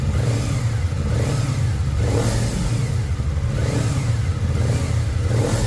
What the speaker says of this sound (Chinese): 那个啵啵啵的声音，就是进气反弹到空气箱的声音。